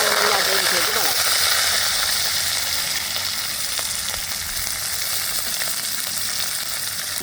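Mustard seeds, fennel, chopped garlic and onions sizzle in hot oil in a pan, a loud, steady frying hiss with faint crackles running through the whole clip.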